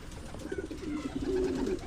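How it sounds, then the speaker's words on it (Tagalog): A racing pigeon coos softly, a low rolling call repeated a couple of times against quiet background noise. "Abangan natin mga farmer makauwi kaya yung kalapati ni Rambong Lima."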